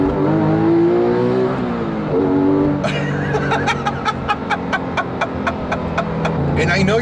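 Engine of a Porsche 997 GT3 RS 4.0 rises in pitch as it revs, drops and climbs again, then sharp rapid pops and crackles follow. Laughter and voices are heard alongside.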